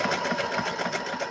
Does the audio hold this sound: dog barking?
no